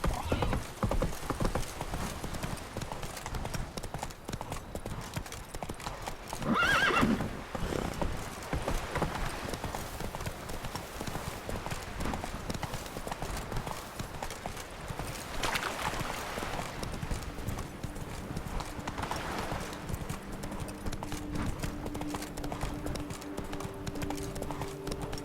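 Horse hooves gallop in a fast, steady clip-clop rhythm throughout while riding in The Witcher 3 video game, with a brief whinny partway through and game sounds behind.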